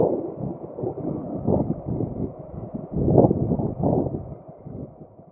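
Steady low wind roar buffeting the microphone while riding a motorized bike, with louder gusts swelling around the middle of the clip and no voices.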